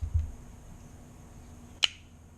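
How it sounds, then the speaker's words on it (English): A single sharp metallic click of a Medford Praetorian folding knife's lock engaging rings out near the end, crisp and close against a quiet background, preceded by a faint soft handling thump. "the sound of that engagement, the lock engagement"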